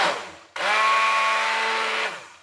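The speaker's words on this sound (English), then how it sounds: "So I just use a stick blender," A handheld stick blender whirs through a soap mixture of lye and oil, starting abruptly after a short burst and holding a steady, loud, close motor hum for about a second and a half before winding down.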